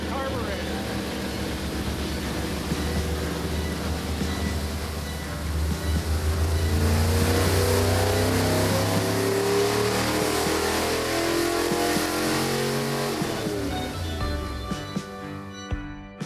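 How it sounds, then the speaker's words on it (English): A car engine with a carburetor revs up as RPM rises, a mid-pitched engine roar that swells and holds before easing off, with a voice speaking over it. "As the RPM increases, you'll see that mixture come right out of the carburetor."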